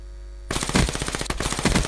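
A sudden burst of rapid automatic gunfire in the shooter Black Ops 3, loud and close, with individual shots clearly pulsing in quick rhythm.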